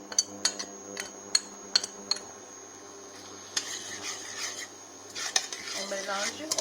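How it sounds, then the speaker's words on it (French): Onions and Indian curry paste stirred in a pot, a spoon clinking against the metal in sharp scrapes and taps, closer clattering near the end, with no talk. "On mélange, on tourne."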